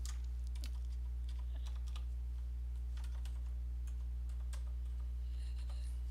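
Light, irregular tapping of fingers on a computer keyboard, faint and close, scattered keystrokes over a steady low electrical hum with no talking.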